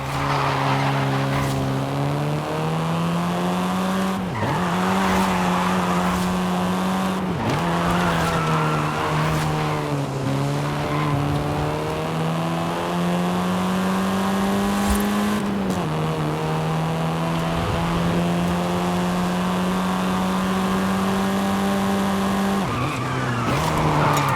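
A car in the racing video game Forza Horizon 5 driving hard with a steady loud engine drone, its pitch rising and dipping through gear changes, while the tyres squeal and skid almost continuously for over twenty seconds.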